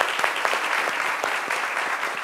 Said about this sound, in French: On applaudit très fort notre Dadju.